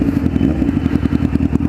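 A Honda Fireblade motorcycle being ridden nearby, its engine holding a steady, rough low drone with a faint clattering pulse throughout, loud and close with no talk.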